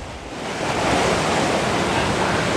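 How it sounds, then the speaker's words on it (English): Stormy sea waves crash over a stone jetty amid howling wind, a dense, continuous roar of surf and wind noise building in the first second and then holding steady and loud, with no voices. "the waves are just crashing over the jetty over here"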